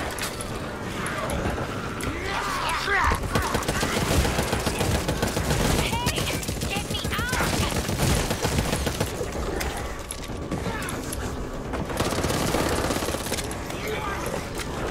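Rapid, sustained automatic pistol fire in the Left 4 Dead video game, dense crackling bursts running nearly continuously and loud throughout, with game chaos and speech-like voices mixed in.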